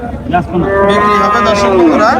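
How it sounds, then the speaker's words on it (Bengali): A bull at a cattle market gives one long, loud, close moo that rises and falls over about two seconds, after a brief grunt. "শুনলেন এই যে গরুটা"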